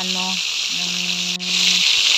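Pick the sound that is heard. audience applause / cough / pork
pork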